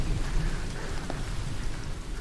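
Steady rain falling in a British historical documentary, a dense continuous hiss of drops with a low rumble beneath, moderately loud and unbroken, with no talk.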